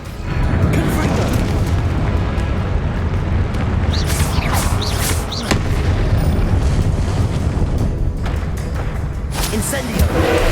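Explosive booming bursts from the Confringo blasting spell in Hogwarts Legacy, a dense, loud roar of blasts and rumble that continues through the whole stretch with a voice over it.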